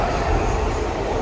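Saint Petersburg metro train giving a steady, dense rumble with continuous low roar and broadband hiss, loud and close throughout with no distinct breaks.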